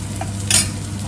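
Chopped chayote (chow-chow) vegetables sizzle in a hot pan while a spoon stirs them, a short, close scrape over a steady frying crackle.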